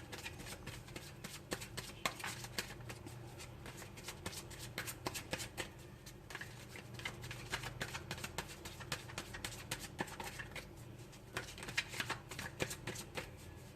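Crystal oracle cards are shuffled by hand in quick, repeated riffling bursts. The sound is soft and close, with faint background noise.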